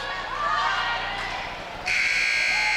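A loud, sustained electronic buzzer sounds at a girls' high school basketball game in a gym, marking the end of the third quarter; it jumps in strongly near the end and holds steady over crowd noise.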